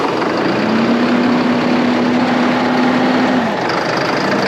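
A steady, loud tractor engine, just jump-started, idling close by, a constant low rumble with a faint hum drifting slightly in pitch.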